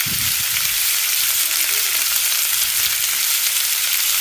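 Garlic paste and chopped tomato fry and get stirred in a pan as the base for a catla fish curry. The sizzle is loud, close and continuous throughout, with no talk.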